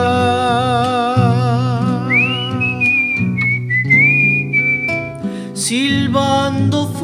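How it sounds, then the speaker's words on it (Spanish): A person whistles a loud, sustained melodic line with sliding pitch over instrumental music in a theatre performance, the whistle carrying clearly above the accompaniment for several seconds. "Silbando fuerte,"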